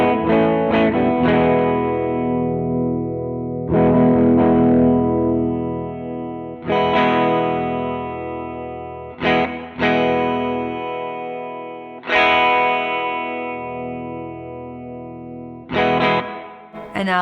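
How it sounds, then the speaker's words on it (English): Distorted electric guitar chords through a pedal with a built-in amplifier are struck again and again, each left to ring while the EQ is swept, tone shifting brighter and darker, loud and close. "I'm going to sweep that EQ a little bit just so you can hear it"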